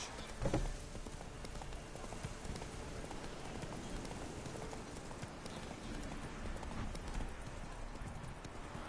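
Roach the horse in The Witcher 3 trots with steady, rhythmic clip-clopping hoofbeats, close and continuous over a rain-like ambient wash, with no talking.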